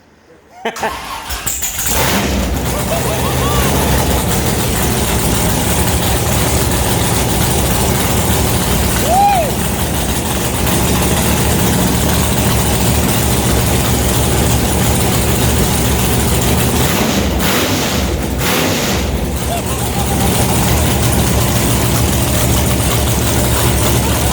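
A blown 540 big-block Chevy engine in a Willys starts up and runs at a loud, steady, rumbling idle close by, with a few revs partway through.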